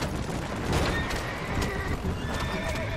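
A horse in Red Dead Redemption gives a loud whinny over steady clip-clop hoofbeats and rough outdoor rumble, with no speech.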